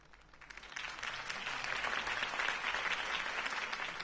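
Applause in a video game swells from scattered claps into steady, dense clapping, moderately distant and sustained.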